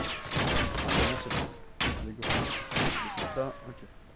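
Bursts of gunfire in the Call of Duty: Modern Warfare Warzone video game, several sharp volleys of shots with sudden loud onsets and decaying echoes, spaced irregularly over a few seconds.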